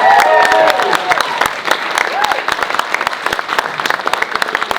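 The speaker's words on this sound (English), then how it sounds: "Round of applause." Wedding guests break into a round of applause, dense clapping that starts loud and full, then thins into scattered claps over a few seconds, with some voices mixed in.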